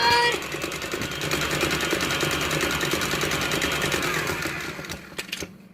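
Electric mixer whirring steadily as it beats cheesecake batter in a locked bowl, a constant buzzing motor hum that stops abruptly near the end.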